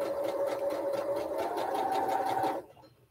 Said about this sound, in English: Sewing them at the quarter inch